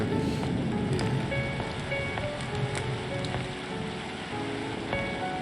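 Steady rain falls in the point-and-click mystery game Agatha Christie: And Then There Were None, a dense continuous hiss with scattered drip clicks and faint tonal ambience, loud and unbroken throughout.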